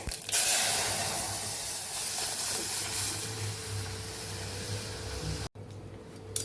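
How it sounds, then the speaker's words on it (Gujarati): Hot spiced oil with asafoetida hisses loudly as it is poured over boiled dal to temper it, giving a close, steady sizzle that fades slightly before cutting off, in a Kathiyawadi kitchen. "હવે ડાયરેક્ટ દાળનો વઘાર કરી લેશું આપણે"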